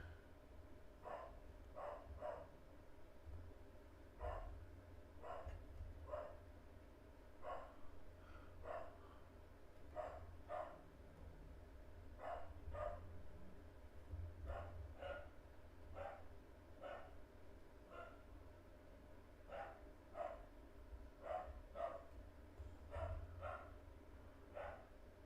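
A dog barks repeatedly in short, evenly spaced bursts somewhere in the background of a room during a coin roll hunt, the yaps steady and moderately distant throughout over a low hum.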